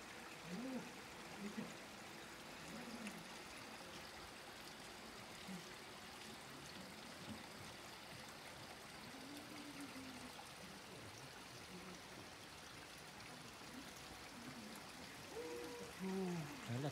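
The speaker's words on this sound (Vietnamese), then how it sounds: "Mình cũng nghe thấy tiếng nước róc rách chảy." A snowy stream babbles and trickles in a steady, faint wash of running water, with soft vocal sounds rising over it now and then.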